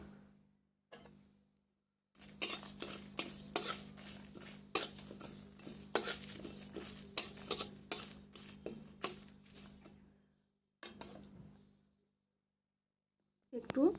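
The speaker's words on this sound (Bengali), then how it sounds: "আমি শুকনো লঙ্কা গোটা জিরে আর গোটা ধনে আমি ভেজে নেব একটু" A pan dry-roasts whole red chillies, cumin seeds and coriander seeds for a chutney. Quiet, irregular metallic clinks and scrapes of a utensil against the pan come with short pauses and near-silent gaps.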